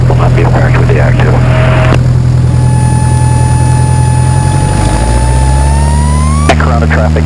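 A Cessna 172 engine roars steadily and loudly during the takeoff roll at Corona airport, its droning pitch climbing gradually, with brief voices at the start and end.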